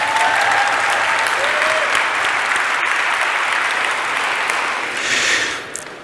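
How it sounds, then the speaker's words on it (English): Sustained applause from a conference audience for the tech support crew at a JavaScript event, dense and steady throughout, fading slightly at the end. "Round of applause for the tech support people"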